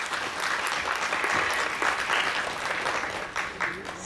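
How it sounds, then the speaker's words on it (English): An audience at a speaker event claps together in a sustained, even burst of applause that holds at a steady level for several seconds. "I need claps,"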